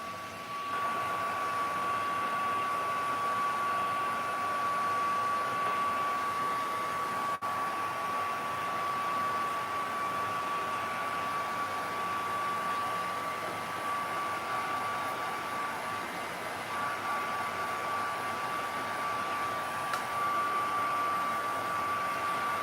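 Hair dryer drying painted paper during a craft session, a steady loud blowing roar with a constant whine, running without a break for over twenty seconds.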